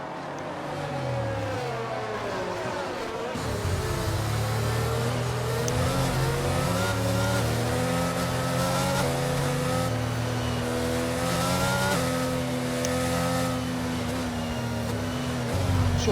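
Race car engines whine and rev continuously in a racing video game at Imola, with the pitch of the engines rising and falling through gear changes, loud and unbroken.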